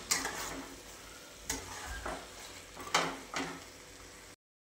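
Cabbage manchurian being stirred in a hot pan, with a spoon scraping through sizzling fried cabbage balls in several short bursts over a steady frying hiss, close and fairly quiet, no talking.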